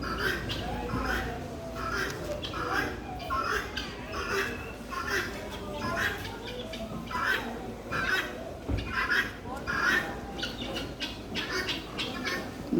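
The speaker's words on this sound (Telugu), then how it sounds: "గిన్నె కోళ్ళు ఉన్నాయి చూడండి" Guinea fowl call repeatedly in a farmyard, a series of harsh, rhythmic cackling bursts at moderate distance, continuing steadily over a low background.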